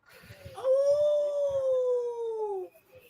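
A man imitates a howl with his voice, a single long, sustained, wavering wail that slowly falls in pitch, loud and close, preceded and followed by a few soft bumps.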